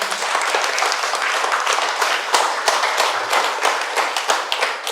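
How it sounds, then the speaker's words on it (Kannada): Loud, dense applause from a live audience after a speaker at an inspirational talk event, continuous clapping that fills the hall for several seconds. "ಜೋರ ಚಪ್ಪಾಳೆ ಅವರಿಗೆ."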